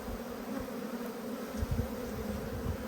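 Honey bees in an apiary during a hive inspection, a constant close buzzing drone with small swells in loudness and no talking.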